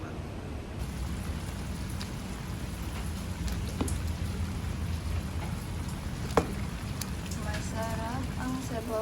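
Steady rain falls throughout in rainy weather, an even wash of patter with a few louder drops and faint kitchen sounds at a home where chicken soup is being cooked.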